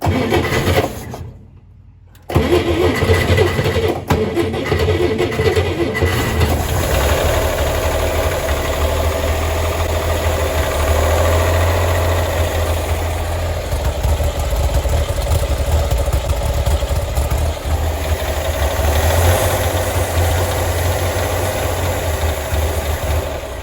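A flooded 1965 Chevrolet Corvair 110 Monza engine cranks after a short silence, catches and settles into a loud, steady, slightly rough idle that runs on close by without pause.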